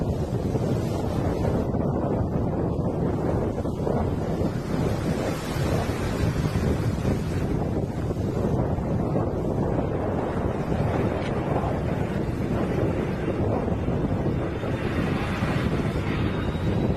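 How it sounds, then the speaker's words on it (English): Heavy, gusty crosswind at an airport runway roars continuously and buffets the microphone, a dense rumbling rush with no voices. "Heavy crosswinds shoved the Boeing 737 sideways on the runway during takeoff"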